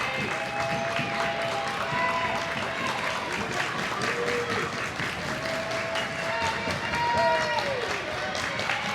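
A crowd of Concordia Academy fans cheers and applauds steadily at a high school girls basketball game against Minnehaha Academy, a dense, loud roar filling the gym with sneaker squeaks cutting through.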